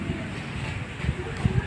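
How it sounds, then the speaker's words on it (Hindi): A cool breeze blows outdoors after rain near trees under gathering clouds, rumbling against the microphone in low gusts that swell and fade, with a couple of stronger buffets near the end. "ठंडी हवा चल रही है बिल्कुल।"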